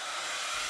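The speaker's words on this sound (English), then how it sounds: "I'm just going to use a heat gun to set it just a little bit" A heat gun blows hot air onto inked felt, giving a brief steady airy whoosh at moderate level, alone.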